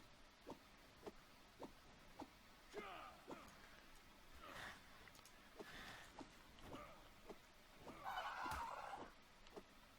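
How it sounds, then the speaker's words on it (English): Birds honking in the video game Ark: Survival Evolved, a series of sharp repeated calls and gobbling cries spaced every second or so, with a louder burst near the end, heard alone without talk. "I hate these birds. I shouldn't have attacked it."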